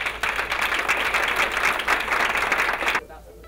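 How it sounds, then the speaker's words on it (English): An audience applauds itself after a presentation workshop: dense, loud clapping from a crowd fills the room steadily and then stops abruptly near the end. "I want to ask you to give yourselves a huge round of applause."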